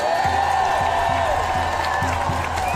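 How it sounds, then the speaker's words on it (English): Crowd applause at a "No Kings" protest rally in Houston, honoring a teachers' union speaker: steady, dense clapping and cheering that fills the whole stretch at a constant loud level. "Let's give her a big round of applause."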